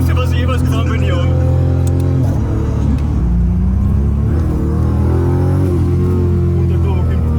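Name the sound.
1000HP Toyota Supra turbo engine driving at Nürburgring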